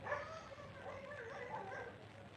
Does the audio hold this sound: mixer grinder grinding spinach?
no